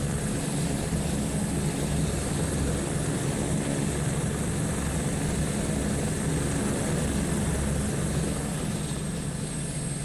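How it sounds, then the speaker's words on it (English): A helicopter in the Flight Simulator 2024 game gives a loud, constant rotor drone, the main rotor's low beat under the tail rotor's higher whine, steady throughout with no voices. "You can also really, really hear the tail rotor on this."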